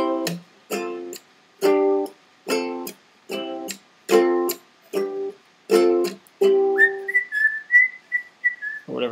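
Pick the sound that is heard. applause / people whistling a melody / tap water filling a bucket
people whistling a melody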